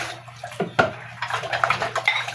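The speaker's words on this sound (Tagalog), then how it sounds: "Tatlong banlaw lang guys. Sa plato guys." Plates being rinsed under running water at a sink, with a steady splashing flow, clinks and knocks of dishware, loud and close, no talking.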